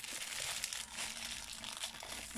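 Thin plastic packaging from an AliExpress parcel crinkles and tears close by in a steady, rustling stretch, quiet and without talk.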